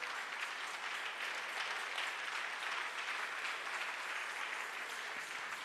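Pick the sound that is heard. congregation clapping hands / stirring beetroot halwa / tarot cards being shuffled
congregation clapping hands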